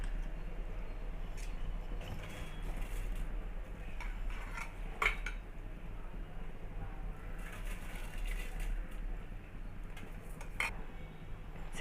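Metal utensils scrape and clink against a pot of rice in boiling water for biryani, in a steady, busy clatter over a low background rumble, with occasional sharper knocks.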